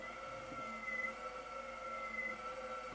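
BMW i3 electric motor run from a controller, a steady high-pitched electric whine with several stable tones, faint and continuous over a few seconds as the throttle is pumped.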